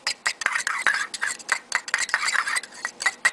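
Homemade clay mixture with yellow food coloring or paint being stirred in a bowl, quick irregular scraping and clinking strokes of a utensil, close and alone.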